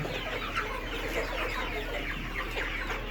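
Seventy-five-day-old layer hens in a poultry shed at night, recently beak-trimmed, cluck in a steady close chorus over a constant low hum, with no voices.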